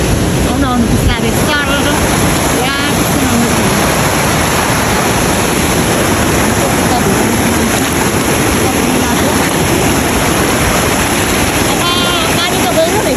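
Water rushing along a trail near Ghandruk, a loud continuous roar close by, mixed with wind buffeting the microphone and voices talking over it.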